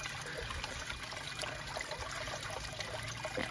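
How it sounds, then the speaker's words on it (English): Water from a small garden fountain with a bell-shaped nozzle falls and splashes continuously, a soft steady trickling wash heard fairly close with no voices. "this is a really little fountain. And it has a bell-shaped nozzle."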